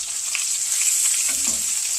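Steady loud sizzling of chicken thighs frying in their own fat in a pan, no added grease, a continuous crackling hiss with a brief low scraping stir partway through.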